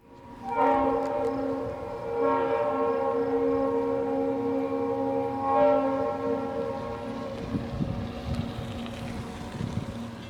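A loud steam whistle blows in long sustained chords, then Western Maryland steam locomotive 1309 rumbles past with heavy mechanical noise close by.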